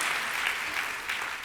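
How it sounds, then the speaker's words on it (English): Loud, steady applause from a banquet crowd for the Georgia Faith and Freedom Coalition board at the 2023 Victory Dinner, dense clapping sustained evenly throughout. "Let's give Mac and the board of Georgia Faith and Freedom Coalition a round of applause for this incredible evening"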